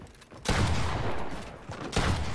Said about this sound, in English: how fun it is just shooting and editing and resetting with the pump shotgun